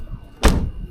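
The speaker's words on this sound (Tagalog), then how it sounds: "ang ganda ng sara ng pinto" A door on a Toyota Corolla AE92 is shut once with a single solid, close thunk after a quiet moment, and a low rumble lingers afterward.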